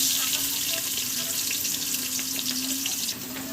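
Onion and ginger sauté in a pan for Filipino sopas, a steady close sizzle and hiss with light occasional stirring, fairly loud and continuous, no talking heard.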